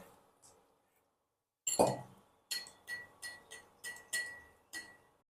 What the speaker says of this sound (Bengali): এবার এটা জলে ভালো করে গুলে নেব